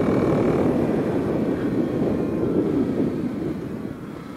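Kawasaki KLX 300 dirt bike with a carbon Delkevic exhaust idling at dusk, a steady low rumble with some wind noise, close and continuous, easing slightly toward the end.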